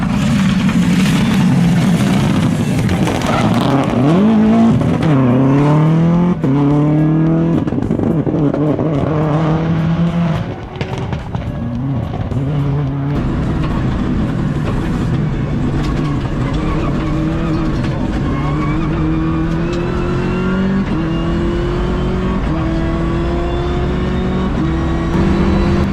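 A race car engine howls loudly and continuously, rising and falling in pitch through repeated gear changes as it drives at speed.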